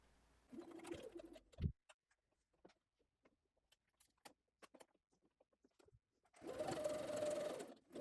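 A sewing machine runs a dress waist seam in two short bursts of whirring, one near the start and a longer one at the end, with faint ticks and small handling sounds between them.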